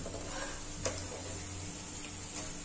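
Onion bhajiya fritters sizzle in hot oil with a steady, soft crackle and occasional pops, quiet and close.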